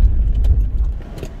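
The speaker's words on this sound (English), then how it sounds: "Time to drive home in the Mascot." Inside a Renault Mascot van on the drive home, a loud, close, low engine and road rumble fills a brief moment before easing off slightly.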